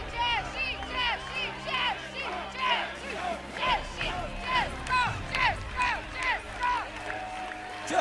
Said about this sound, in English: And now the crowd is going wild around me here